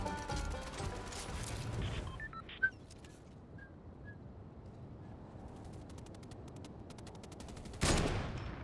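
Gunfire in Fortnite: a dense rattle of automatic shots up front, a lone sharp crack midway, then a second loud burst near the end over a steady background rumble.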